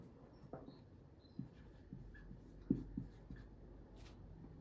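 Pen scratching on paper during an electrical engineering lecture on transmission lines, a faint series of short, soft strokes and taps spaced irregularly in a quiet room.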